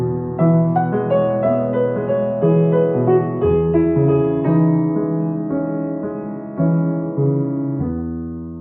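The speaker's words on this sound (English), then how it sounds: "First is the Debussy's Arabesque number 1." Solo piano plays Debussy's Arabesque No. 1 with a 3-against-2 polyrhythm, flowing triplet figures over steady paired notes, sustained and resonant at a moderate, even volume for the whole passage.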